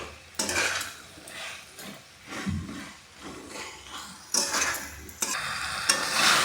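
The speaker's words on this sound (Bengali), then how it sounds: "একটু সময় ভালোভাবে কষে নিই।" Dry fish and pumpkin curry with spices sautéing in a pan, bursts of sizzling and scraping as the mixture is stirred, rising in loudness near the end.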